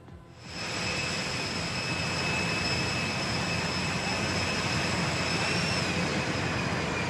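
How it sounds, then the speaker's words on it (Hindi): An Air Force One jet aircraft roars with a loud, steady, broadband engine rumble and a whine over it. The roar builds within the first half second and then holds constant. "एयरफोर्स वन का यह नया विमान ट्रंप को कतर ने तोहफे में दिया"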